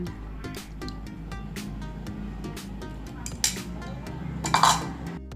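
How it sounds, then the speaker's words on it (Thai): A utensil clinks and scrapes against a bowl while beaten egg and chopped tofu are stirred together, with irregular taps and a couple of louder clatters close by. "ก็นำเต้าหู้ที่หั่นไว้ มาลงไปและคนให้เข้ากัน"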